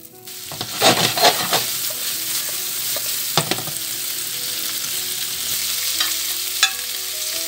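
Meatballs drop into hot oil in a pan and fry with a loud, continuous sizzle, broken by a few crackling bursts and scrapes of a utensil.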